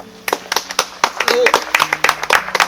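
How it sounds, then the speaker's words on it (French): A small group claps in scattered, uneven bursts at a mock wedding ceremony, close and lively, with people talking and cheering over the claps. "Applaudissements."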